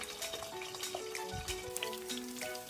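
Mackerel grilling in an oiled pan sizzles steadily at low volume, a soft continuous crackle with faint pops, no talking.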